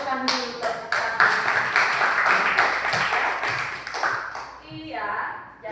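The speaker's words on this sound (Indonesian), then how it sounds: "Berikan dulu tepuk tangan." A classroom gives a burst of hand clapping, many hands beating quickly together for several seconds and then trailing off, with children's voices mixed in.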